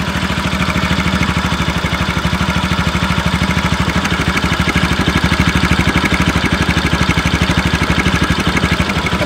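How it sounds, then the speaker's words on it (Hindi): A Bajaj Pulsar RS200 with its stock exhaust idles close by, a loud, even, rapid chugging pulse that holds steady throughout without revving, and no one speaks over it. "तो सुनाते हैं स्टॉक वाले का साउंड। तो ऑन करो भाई गियर पे। तो ये है नॉर्मल साउंड,"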